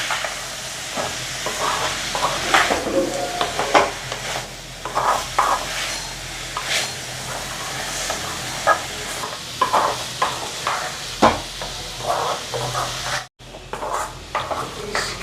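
Anchovy thokku being stirred in a pan, a busy close sizzle broken by repeated scraping strokes of a spoon, fairly loud, with a brief cut to silence near the end.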